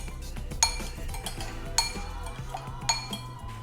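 Vinegar, salt, pepper and cloves mixed in a bowl for Haitian pikliz, with a utensil scraping and stirring and three sharp, bright clinks against the bowl at roughly even intervals, close and fairly quiet.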